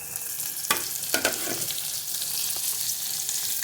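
Tomatoes dropped into frying onions in a pan for chandanbatwa bhaaji, a bright continuous sizzle with a few louder crackling bursts near the start, close and alone.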